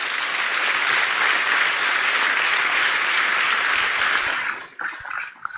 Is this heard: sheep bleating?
no